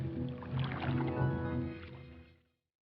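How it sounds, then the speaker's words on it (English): A canoe glides down a stream with soft, close paddle strokes and gentle water swishes under a musical score that fades out at the end. "we paddled down a strange and wondrous stream"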